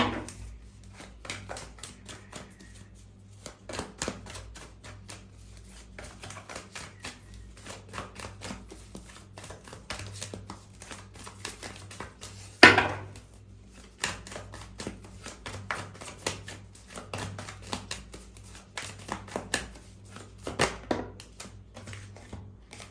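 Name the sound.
shuffling tarot cards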